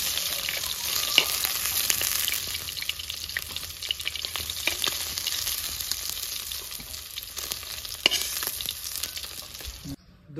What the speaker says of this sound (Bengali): ভোলা মাছ কড়া করে ভেজে নিয়েছি